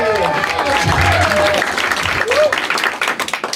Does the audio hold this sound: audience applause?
yes